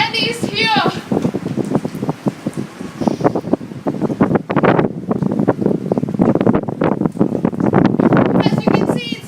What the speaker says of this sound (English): As you can see, it's very windy.